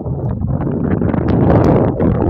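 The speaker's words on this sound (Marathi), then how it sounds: "वाऱ्याचा जोर बघा कसा आहे." Strong wind at Raigad fort buffets the microphone in loud, low rumbling gusts that swell toward the end of the short stretch, with no voices.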